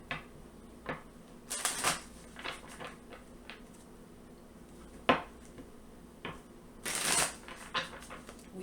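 Tarot cards from a Crystal Visions deck are shuffled in several short riffling bursts with soft taps and pauses between, close and fairly quiet, with no talking.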